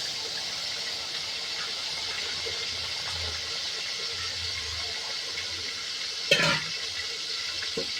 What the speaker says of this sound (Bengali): তরকারি কষানো হয়ে গেছে, আমি এবার পানি ঢেলে দেবো।